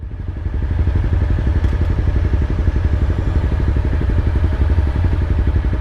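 A Honda CBR300R motorcycle engine runs steadily close by, a loud, even rumble with a rapid pulsing beat that holds at a constant idle-like pace throughout, with no speech.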